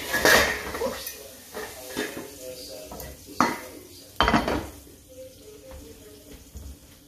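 Close metallic clatter of utensils stirring in a hot pan where salmon was just cooked, with scattered clinks and scrapes over a faint sizzle and occasional water sounds, no talk over them.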